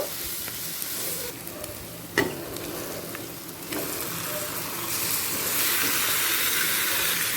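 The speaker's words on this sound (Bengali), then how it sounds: "এরপর গ্যাসের ফ্লেমটাকে লোয়ে করে দিয়ে চিকেনটা দিয়ে দেব" Chicken hits a pan over a low gas flame for chicken patiala with softened onion, ginger and garlic, giving a steady close sizzle with a few stirring scrapes and a brief clatter, the frying hiss swelling louder toward the end.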